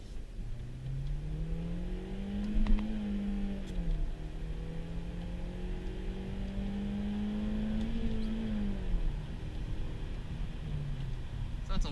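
Engine of a 2006 Honda Civic EX with a five-speed manual, revving hard under acceleration as VTEC engages, pitch climbing, dipping at a shift, then climbing again over steady road and cabin noise.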